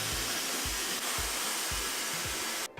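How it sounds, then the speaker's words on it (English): A Dyson hair dryer blows a steady, soft airy hiss, fairly quiet, with faint low thumps underneath and no talking. "Very quiet Dyson dryer"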